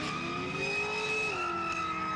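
A car does power skids at a quick street racing day in the Kooralbyn Valley, its engine holding a loud, sustained high-revving tone that shifts pitch slightly as the tyres spin, with no talking.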